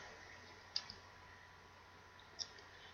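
Two faint, sharp mouse clicks about a second and a half apart, the first followed by a softer echoing tick, against a quiet background hum while updating a WordPress post's font settings.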